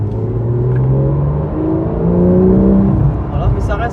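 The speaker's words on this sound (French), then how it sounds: "quand j'appuie un petit peu, on a quand même le bruit du flat 6" Porsche 991 GT3 Clubsport with a 3.8-litre flat-six, heard from the cabin as the engine rises and falls through a few moderate revs, a steady throaty drone with a brief voice near the end.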